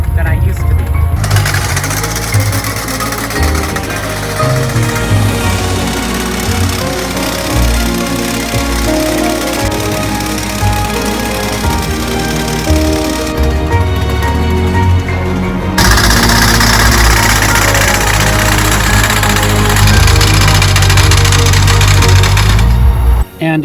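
A hay baler with a pull-off unit runs loudly and roughly, a harsh, continuous mechanical clatter with rhythmic knocking at close range that carries on throughout.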